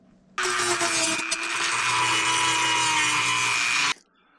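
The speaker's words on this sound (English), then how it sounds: "I just use the old Dremel and widen out the hole until that grommet fits in there." An old Dremel rotary tool steadily widens a drilled hole in a shop so a 3/4-inch grommet will fit, a loud continuous high whine running for about three and a half seconds before cutting off.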